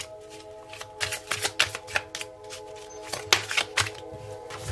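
A deck of tarot cards being shuffled by hand, a run of crisp riffling flutters and soft slaps in uneven bursts, close and fairly quiet with no talking.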